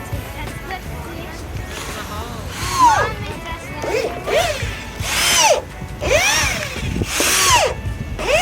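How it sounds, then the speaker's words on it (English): A power drill bores holes for a backyard garden bed, its motor whining up and down in repeated bursts, fairly near, while people talk in the background. "So we're just drilling in the holes."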